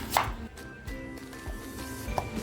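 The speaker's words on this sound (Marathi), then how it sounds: "कांदा आणि टॅमॅटो घेतला आहे तो मी कापून घेते अगोदर" Onion and tomato being chopped on a board for a homemade Chinese-style prawn dish, a few soft, sparse knife knocks spaced irregularly, close but quiet.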